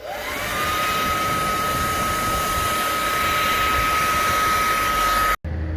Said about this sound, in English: and a hairdryer moment.